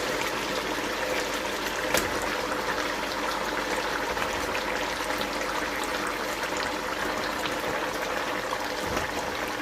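Water pours and trickles steadily onto plantain in a cooking pot for several seconds, a continuous splashing rush without any talking.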